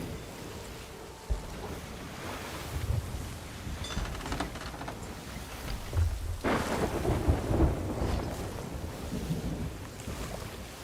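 Thunderstorm in the video game Path of Exile, with a steady wash of rain and wind and deep rolling thunder swelling midway, heard alone at moderate loudness.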